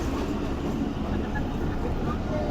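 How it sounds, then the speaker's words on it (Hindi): A packed passenger railcar runs along the tracks, a dense steady rumble and rattle heard from inside the carriage, loud and continuous. "हमारी ट्रेन अल्हम्दुलिल्लाह नहीं रुकी है, निकल गई है मुरीद के से"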